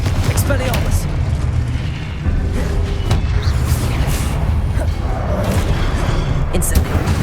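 Spell effects in Hogwarts Legacy burst out as a steady barrage of loud booms and blasts filling the whole stretch, with a voice speaking over the din.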